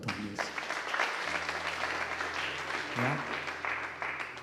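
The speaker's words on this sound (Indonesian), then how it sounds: "Tepuk tangan dulu buat Tuhan Yesus." Church congregation clapping together, a dense sustained burst of applause filling the room, with a voice speaking briefly over it near the start and again toward the end.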